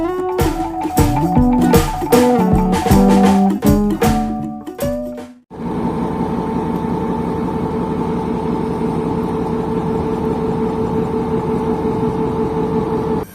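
A railway locomotive at Habib Kot Junction in Shikarpur District turns on a turntable, its engine giving a steady, loud, droning hum that follows several seconds of music.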